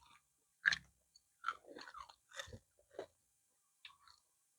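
Crunchy chewing of spicy oyster salad with young lead tree shoots and crisp fried garnish, a few close, sharp bites and crunches spaced through a quiet pause with no talking.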